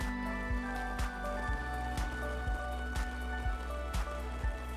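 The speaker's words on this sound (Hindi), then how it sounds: "ये बारिश तो बहुत ज़रूरी थी और ये हुई है।" Rain falling in the Kullu area of Himachal, dense steady patter with sharp individual drops striking a surface nearby in a rapid irregular rhythm.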